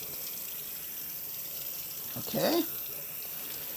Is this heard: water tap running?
yes